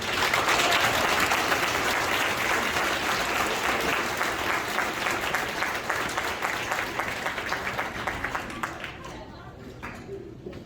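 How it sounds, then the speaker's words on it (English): Sustained applause from a large crowd, dense and steady clapping that gradually thins and fades toward the end. "Let's give them one more round of applause"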